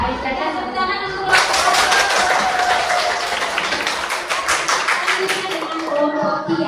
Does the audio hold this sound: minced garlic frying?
no